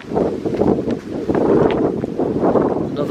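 Wind blows steadily outdoors in a wood on a walking route in May, a continuous broad rushing with gusts swelling and easing, close on the microphone and with no voices.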